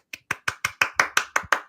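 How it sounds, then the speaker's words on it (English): One person clapping to celebrate Marquette's Big East win, nine sharp, evenly paced claps heard up close, with no talk. "So round of applause there."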